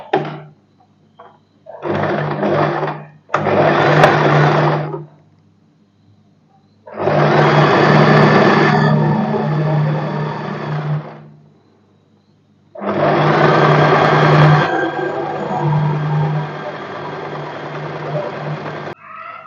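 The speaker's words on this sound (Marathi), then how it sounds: "यावर ही पट्टी ठेवणार आहे आणि एक दाबाच्या अंतराने शिवून घेणार आहे" A sewing machine stitches a fabric strip onto a padded princess-cut blouse, running in several steady bursts of a few seconds each with pauses between, loud and close over a low motor hum.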